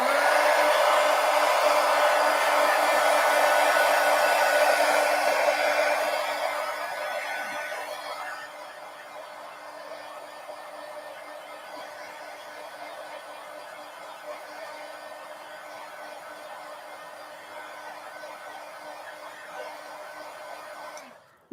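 A heat tool drying an art journal page blows a steady whirring hum that drops to a lower, quieter setting partway through and then cuts off at the end.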